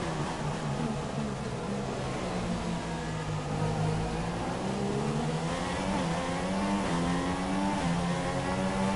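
An F1 car engine in F1 2016 at the German Grand Prix screams steadily and loudly, its pitch rising and falling as the revs change, with no pause.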